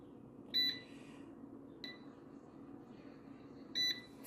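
An air fryer beeps as its settings are changed while it cooks BBQ side spare ribs. Three short, sharp electronic beeps are spread over a few seconds against quiet background hum, with no talking.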